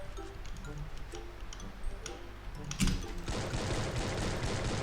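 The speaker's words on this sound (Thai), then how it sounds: "คนยิงกันอยู่" Gunfire rattles in a battle royale video game as faint, distant shots tick in quick irregular bursts, then give way to a louder, continuous wash of noise toward the end.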